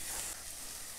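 Steady, close sizzling of lamb and vegetables frying in a hot pan with olive oil, a bright crackling hiss that dips slightly partway through.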